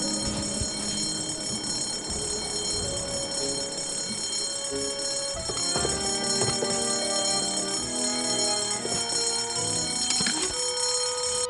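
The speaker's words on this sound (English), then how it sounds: "False fire alarms cost lives." A fire alarm bell rings without pause in the adventure game Escape from Monkey Island, a loud continuous metallic clanging that fills the whole stretch, with other game sounds layered in.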